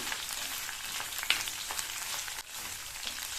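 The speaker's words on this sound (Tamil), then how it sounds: "மீடியம் ஃப்ளேம்ல வச்சு இந்த பாவக்காய் நல்லா எண்ணெயிலேயே ஃப்ரை ஆகணும்" Bitter gourd pieces frying in oil over a medium flame, a steady close sizzle with a brief clink of stirring partway through, and no talking.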